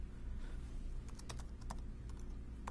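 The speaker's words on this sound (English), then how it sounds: "I'm just going to type the letter R" Steady typing on a computer keyboard while writing a script, with distinct clicks spread through the stretch, some louder single keystrokes, over a low constant background hum.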